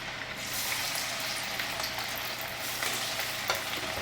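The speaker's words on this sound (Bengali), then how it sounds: "একটু বেশি আঁচেই ভাজতে হবে।" Food frying over high heat in a hot wok, a dense close sizzle with crackling spatters and faint stirring, steady and unbroken without any voices.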